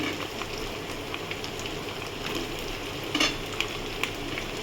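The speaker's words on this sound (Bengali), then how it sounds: "আলুটা ভেজে নেবো ভালো করে।" Potatoes fry in a pan on top of already-browned onions, a steady close sizzle with light crackle and a few brief stirring clinks, no voices.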